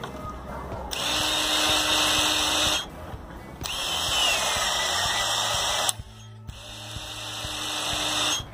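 A Ryobi cordless cutter bites through an Armex padlock in loud, steady high-pitched whining bursts, running about two seconds each with brief pauses between, close up and with no talking.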